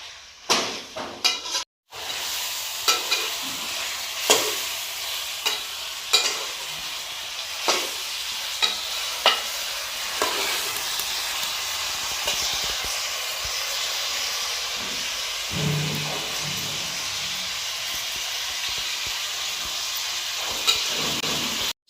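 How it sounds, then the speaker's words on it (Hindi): Mutton sizzles and fries in masala in a pan, a steady loud hiss with periodic scraping stir strokes, no voices. "इस मसाले में तकरीबन 10 से 12 मिनट तक भून लेते हैं। अच्छी तरह अलटम पलटम करते हैं।"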